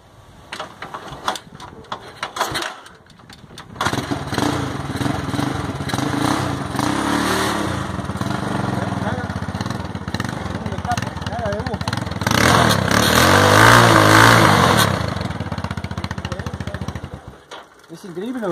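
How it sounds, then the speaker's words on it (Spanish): A Chinese motorcycle engine fitted with a Japanese Honda piston idles and is revved, sputtering and rising into louder sustained revs midway, then dropping back, heard up close. "Quiero que escuchen el motor de esta moto."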